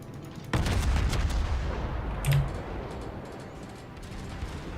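Naval gunfire from a Cleveland cruiser in World of Warships: a sudden loud, booming salvo crashes in and rolls on as a sustained rumble, with a second, sharper report about two seconds later.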